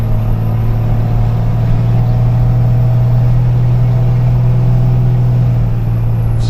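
A dually pickup truck engine runs rough, a loud steady low droning rumble with a strong hum and gritty uneven texture throughout, heard from inside the cab.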